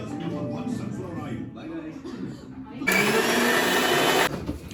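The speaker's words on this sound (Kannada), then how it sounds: "ಆಮೇಲೆ ಇದನ್ನು ಗ್ರೈಂಡ್ ಮಾಡಬೇಕು ಮಿಕ್ಸಿಗೆ" A mixer grinder grinding cooked masala into paste roars loudly for about a second and a half, cutting in abruptly after a stretch of talking.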